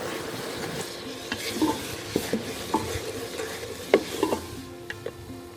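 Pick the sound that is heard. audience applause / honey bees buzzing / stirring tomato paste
stirring tomato paste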